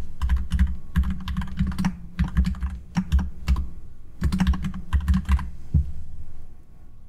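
Typing on a computer keyboard while entering figures into a mortgage calculator, close bursts of rapid clicking keystrokes with short pauses between groups, no talk.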